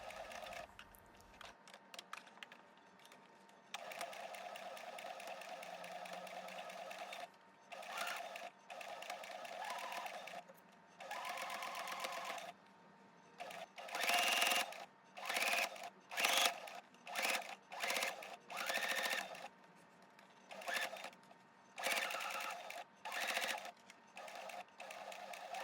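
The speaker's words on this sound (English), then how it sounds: "Sew the collar." A sewing machine stitches the collar of a quilted, batting-filled jacket, whirring in steady runs that break into short, rapid bursts with pauses between them, close and quiet, with no talking.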